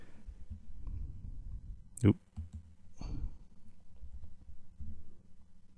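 Fingers tap keys on a small laptop keyboard, giving a few sharp, scattered clicks over a low steady hum, with one louder click standing out.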